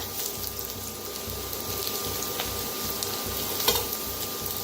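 Curry leaves, chili, garlic and onion fry in a pan for pithla, giving a steady, close sizzle with light crackling and occasional stirring clatter.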